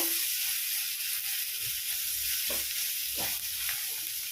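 Tomato and spices fry steadily in a pan, a continuous close sizzle and hiss with a few soft scraping stirs partway through and no voices.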